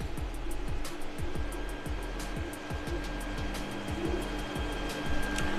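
3D printer raising its nozzle along the Z axis, a steady whirring stepper-motor drone with rapid repeating ticks and pulses, continuous and moderately quiet, with no voices.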